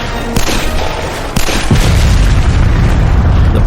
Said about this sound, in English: The bag exploded in a thick haze of black smoke, and bullets zinged every which way.